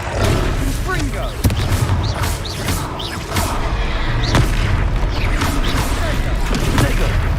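Confringo fire spells cast in combat in the Hogwarts Legacy video game, sharp blasts and booms repeating every second or so amid roaring creatures, clanking and a dense busy battle mix, with voices calling out over it.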